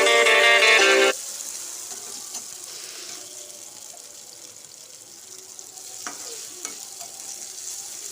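Onions and chopped tomatoes frying in a pan, a soft continuous sizzle with occasional stirring scrapes, heard alone after a brief louder burst at the start.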